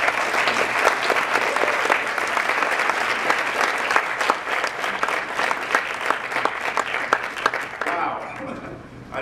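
Enthusiastic audience applause welcoming a lecturer in an academic hall, dense sustained clapping from a large crowd that fades out near the end.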